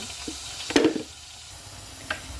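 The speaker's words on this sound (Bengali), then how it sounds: "এখানে পেঁয়াজ আর আদা রসুন একসাথে ভেজে নিচ্ছি" Onion, ginger and garlic fry together in a pan for a spinach dish with tuna, with a soft low sizzle, one louder scrape or stir near the start, and a small clink later.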